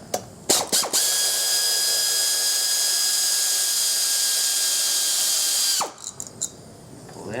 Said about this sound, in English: So I'm going to remove this real quick. My wrench is sticking to it, so turn it a little bit.